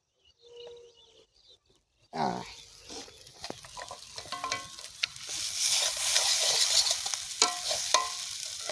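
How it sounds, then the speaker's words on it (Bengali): Vegetable momo filling is stir-fried in a pan. A steady sizzle starts abruptly and builds, with repeated scraping and stirring strokes over it, loud and close. "দারুণ সুন্দর করে ভেজে নিয়েছি। পুর রেডি, এবারে নামিয়ে নেবো।"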